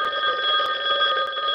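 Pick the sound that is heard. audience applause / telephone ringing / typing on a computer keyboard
telephone ringing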